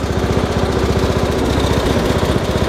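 An MTD garden tractor engine runs steadily close by, with a rapid, even mechanical chugging and a loud vibrating drone that holds constant throughout.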